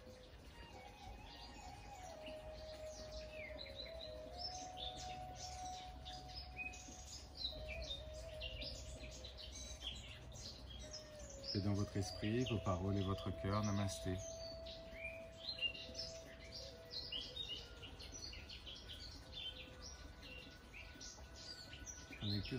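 Birds chirp and sing faintly in the background throughout, with a calm voice speaking over them during a yoga session.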